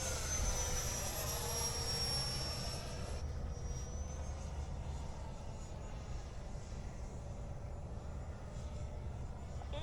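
Model Raptor RC jet with AS3X+ stabilization flying at a model airfield, a steady continuous engine whine and whoosh with a shifting high tone, fairly loud and alone with no talk.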